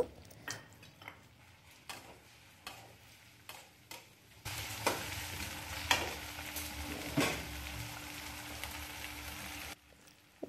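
Ginger paste and cooked-down tomatoes fry in a pan for khichuri, starting with a few soft stirring scrapes and clicks, then a loud, steady sizzle bursting up for several seconds before cutting off near the end.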